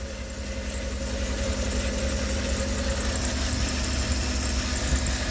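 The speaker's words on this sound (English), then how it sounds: "It really feels like the PCV valve is like vibrating or something" A Dodge conversion van engine idles steadily after a head replacement, a constant close drone with a faint buzzing vibration from the PCV valve running underneath, no talking.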